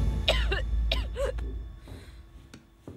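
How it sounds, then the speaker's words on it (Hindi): A woman coughs in a series of harsh, hacking bursts, several in quick succession, then quieter breaths and a final cough in an indoor palace room. "राहदारी तक खांसने की आवाज आ रही है।"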